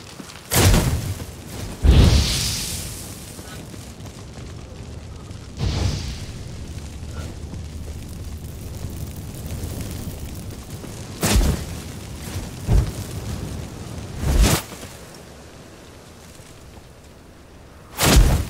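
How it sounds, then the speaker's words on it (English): A wooden shack burns in The Witcher 3 video game, giving a low crackling roar punctuated by a series of sharp booming explosions and thuds spaced irregularly across the scene, some louder and nearer than others. "let's burn this shack down"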